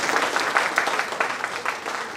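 An audience clapping at a Marathi book launch ceremony, a dense round of applause from many hands, steady and close, lasting the whole moment.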